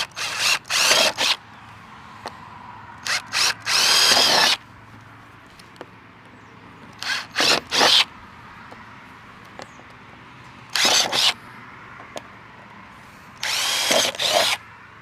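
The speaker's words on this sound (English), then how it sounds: "We're going to drill all those out with our 8mm or 5/16 drill bit." Power drill with an 8mm (5/16) bit boring holes in a 2022+ Subaru WRX front bumper, several short, loud bursts of whirring separated by quiet pauses, close up.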